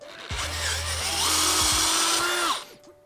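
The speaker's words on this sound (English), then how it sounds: "especially since we were drilling through a lot more metal" A power drill on high speed bores through metal while building a tree shear for an excavator, a loud steady whine lasting about two seconds with a rising pitch sweep before it winds down.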